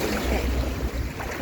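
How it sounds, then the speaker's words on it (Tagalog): Strong sea waves at Stanley Beach, Hong Kong, a continuous loud wash and rumble of surf with wind, no voices. "Medyo malakas yung alon."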